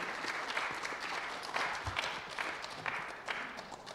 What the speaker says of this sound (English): So let's give her a round of applause, and we welcome her.